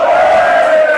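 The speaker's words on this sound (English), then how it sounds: "crowd goes wild for 700 gold" A tournament crowd roars at full volume in one loud, sustained, massed cheer that fills the whole moment, close and overwhelming.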